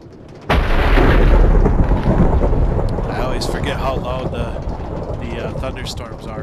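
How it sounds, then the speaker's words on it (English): Thunderstorm in Minecraft Bedrock Edition: a loud rumbling roar bursts in after a short quiet start, then settles into a sustained crackling wash of thunder and rain to the end. "Thunderstorms are in Bedrock compared to Java."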